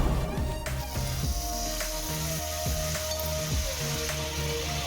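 Pav bread sizzles in butter on a hot tawa, giving a steady close frying hiss with soft spatula scrapes and stirring touches throughout, no voices.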